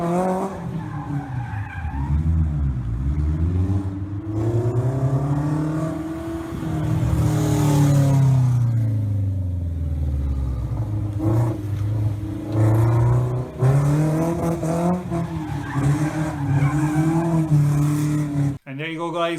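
A sports car revs hard and skids, engine pitch swooping up and down with screeching tires, loud and close, continuous throughout.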